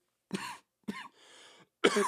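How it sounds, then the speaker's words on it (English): A person coughs three times in short, close, dry bursts after a few oats went down the wrong way, with a brief rasping throat noise between the second and third coughs in an otherwise quiet room. "if you're wondering why I'm coughing, but I had a few oats go down the wrong way there"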